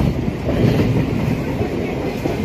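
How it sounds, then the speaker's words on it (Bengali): A local train rolls on from Magra station on the Bardhaman to Sealdah line, a loud, continuous rumble of wheels and carriages heard from inside, with a steady rhythmic clatter. "মগরা স্টেশন ছেড়ে দিল।"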